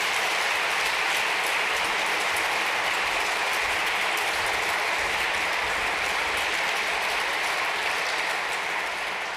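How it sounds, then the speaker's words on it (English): A large audience at a journalism award ceremony applauds the son of an honoree as he comes up, with a dense, sustained roar of clapping that holds steady and fades slightly at the end. "Give it up for him. Round of applause,"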